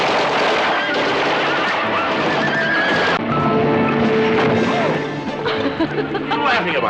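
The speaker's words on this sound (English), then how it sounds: "The horses can't handle the gunshot." Horses in a Western film whinny and neigh loudly with clip-clopping hooves and gunshots, a busy, chaotic close scene with laughter and voices mixed in.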